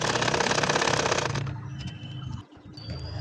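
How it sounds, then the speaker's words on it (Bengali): An ordinary sewing machine stitches a nakshi kantha quilt with a champa flower design, running in a loud, rapid, even whir for about a second and a half before stopping, leaving a quieter room hum. "নিয়ে আবারও সেলাই করা শুরু করেছি।"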